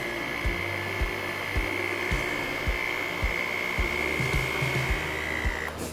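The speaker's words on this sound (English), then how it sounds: "Using my hand mixer for this." An electric hand mixer beating donut glaze, with a loud steady motor whine running throughout and regular low knocks as the beaters strike the bowl about twice a second.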